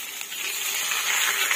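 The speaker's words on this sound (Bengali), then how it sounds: "মশলাটা দিয়ে কষাতে থাকবো।" Spice masala sizzling in hot oil as a soybean curry is cooked, a steady close hiss that holds at an even level throughout with no talking.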